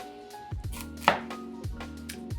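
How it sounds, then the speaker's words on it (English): A knife slices a red onion in half on a cutting board, with a few firm, separate chopping thuds close by and no talking. "So to start off, we're just gonna cut it in half, nice and easy."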